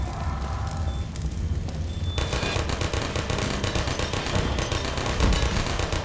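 Dense, rapid gunfire from the video game Minerva: Metastasis rattles on continuously as a steady stream of sharp shots, loud and close, with no pauses.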